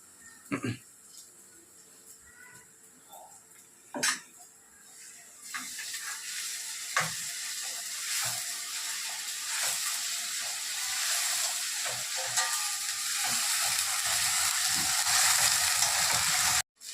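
Masala for a mulkaya chicken curry sizzling and frying in a pan as it is stirred, a steady crackling hiss building from quiet clinks into continuous frying with scraping stirs, with a voice now and then.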